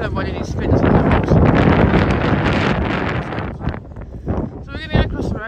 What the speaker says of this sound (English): I can imagine it always being windy though, even in the summer.